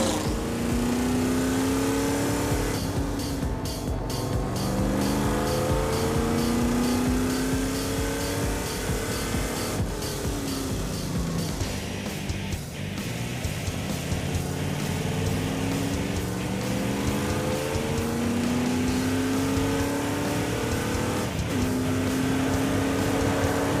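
Loud racing engine of a 1995 Chevy Caprice 9C1 roars continuously at close range, its pitch climbing and falling through repeated revving sweeps with no speech.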